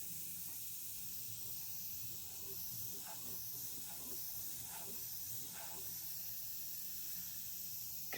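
An airbrush sprays Createx paint onto synthetic paper, giving a steady, soft hiss that runs the whole time with faint clicks and handling noises beneath it.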